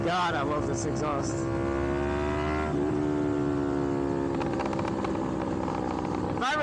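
Yamaha MT-03 motorcycle with an aftermarket exhaust revving on the road, a steady engine drone that climbs and settles, loud and continuous beneath rushing wind.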